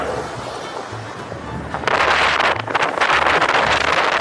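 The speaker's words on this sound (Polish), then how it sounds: "Wiatr wieje niesamowity" Strong wind roars and buffets the microphone, starting moderately and then swelling into a loud, continuous gusty rush, in Poland.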